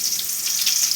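Curry leaves dropped into hot oil with popped mustard seeds give a bright, continuous crackling hiss, close and even throughout the brief moment with no talking.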